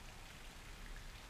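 Light rain falls in a soft, even patter of drops, a faint and continuous hiss with no other sounds.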